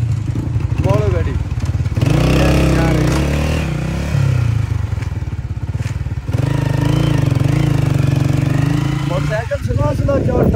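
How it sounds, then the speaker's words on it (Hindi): A motorcycle engine runs close by on a road in Pakistan's Neelum Valley, a steady mid-pitched drone that shifts in tone. Voices talk loudly over it throughout. "मोटरसाइकिल सुनो सुनो"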